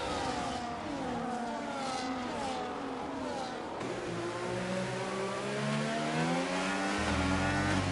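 A McLaren Formula 1 car engine in a racing video game at Abu Dhabi, steadily droning and shifting pitch as it accelerates, with other engine tones layered underneath and a loud, continuous presence throughout.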